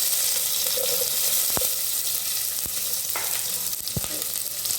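Chopped shallots sizzle in hot oil while cooking raw jackfruit kurma, a steady crackling hiss broken by a few sharp clicks of a utensil against the pan.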